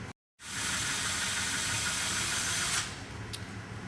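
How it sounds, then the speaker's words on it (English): After a brief silence, a power drill with a 1/8 inch bit whines steadily drilling fiberglass for about two seconds, then slows and quiets into a lower hum. "we're going to need our power drill and a 1/8 inch drill bit"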